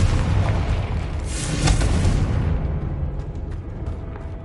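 Confringo fire spell exploding in Hogwarts Legacy, a loud booming blast with a roaring burst that rumbles and slowly fades into a softer tail.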